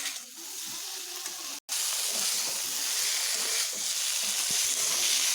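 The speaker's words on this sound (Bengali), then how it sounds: "জিরে গুঁড়ো দিয়ে এবার আমি বেশ ভালোভাবে এটিকে কষিয়ে নেব" Pumpkin curry sautéing in a pan with cumin powder, a continuous close hiss and sizzle with a brief dropout partway, no voices.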